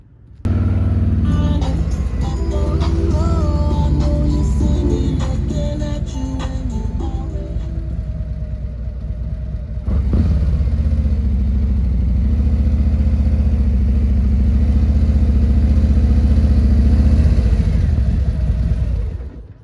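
Motorcycle engine idling and rumbling close by during slow-speed riding practice, a left turn from a stop in a lane with cones, steady throughout with a brief shift in tone midway.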